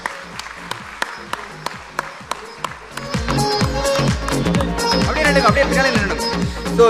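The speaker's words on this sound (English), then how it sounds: "Can we have a big round of applause" At the closing session of a knowledge summit, a few scattered claps start things off and swell after about three seconds into full, loud audience applause that builds toward the end.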